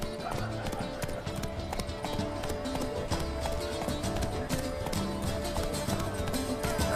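Roach, the horse in The Witcher 3, gallops in a steady rapid clip-clop of hooves, layered over constant game music and ambience.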